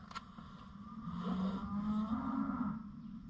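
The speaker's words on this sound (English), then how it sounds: "And the cows are going to start carrying on because, hey, you know, I'm outside." Cows lowing outdoors on a farm, a faint drawn-out moo swelling in the middle over low background noise, heard at a distance.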